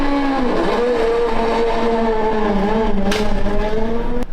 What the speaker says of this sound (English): This is a Mazda 787B. It is a absolute icon. It was equipped with a 4-rotor